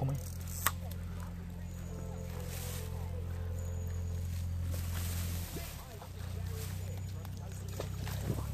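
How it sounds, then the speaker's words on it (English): A boat passes on the River Avon at a fishing spot, its engine a steady low drone throughout, with water lapping and faint outdoor sounds, a few quiet thuds nearby and no talk over it. "There's a boat coming."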